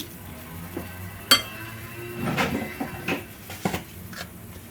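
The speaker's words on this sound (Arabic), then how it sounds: "غادي نخلط هاد العناصر مزيان ونضيف واحد شويه ديال الملحه" Turkish pie filling ingredients stirred together with olive oil in a bowl, giving soft, scattered clinks and scraping taps of utensil on dish with a few sharper knocks, close and fairly quiet, with no talking.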